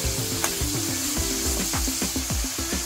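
Home-ground masala paste with turmeric fries in oil over medium heat for a drumstick dish. It gives a steady close sizzle with quick, repeated scraping strokes as the paste is stirred.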